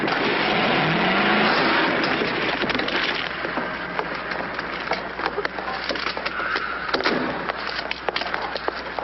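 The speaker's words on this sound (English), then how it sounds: "Pretty reckless driving." A car drives recklessly in a 1950s comedy scene, its engine revving under a steady rush of noise with scattered clattering knocks, fairly close.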